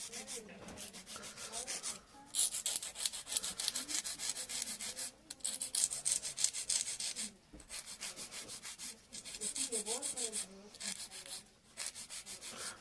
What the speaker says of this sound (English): So I'm gonna take a 100 grit file and then